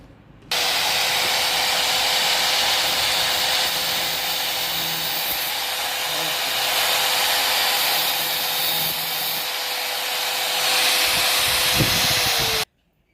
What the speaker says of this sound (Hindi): जो यहाँ में ग्राइंडर मशीन से काटने वाला होगा शायद